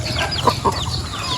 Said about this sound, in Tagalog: Sila yung manok sa kabila.